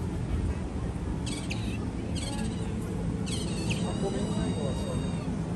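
An animal at Disney's Animal Kingdom gives three short, high, bright chirps over a steady bed of crowd murmur and ambient park noise.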